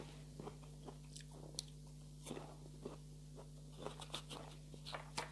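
Bites and crunchy chewing on a large, hand-sized, white-fleshed fruit that tastes like an Asian pear, coming as a string of short, close crisp crunches over a steady low electrical hum.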